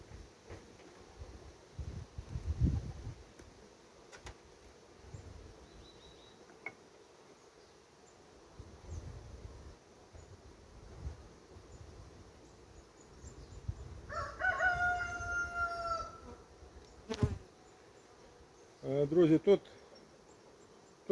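Honey bees at an opened hive during colony work buzz in a low, steady background hum, with intermittent handling knocks and brief louder rustles from close by.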